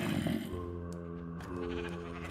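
Sheep in the Minecraft video game bleating in a steady, drawn-out cry over a constant droning background hum, with a faint click partway through.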